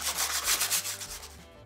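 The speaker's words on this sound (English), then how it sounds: "take my sandpaper and sand the edges of the frame" Rough, steady rubbing of sandpaper against the edges of a wooden frame, close up and continuous, with a brief pause near the end.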